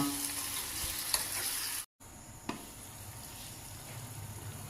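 Paneer and peas frying in a pan, a steady soft sizzle with stirring scrapes and a brief drop to silence midway.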